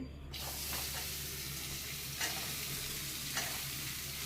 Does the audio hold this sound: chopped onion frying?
yes